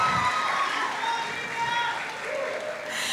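A TV music show's studio audience keeps up a steady wash of applause and light cheering to welcome a judge, with a faint host voice over it.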